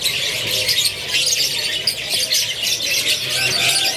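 Several canaries at a bird kiosk sing loudly and continuously, their dense overlapping trills and chirps filling the space without pause and with no talking.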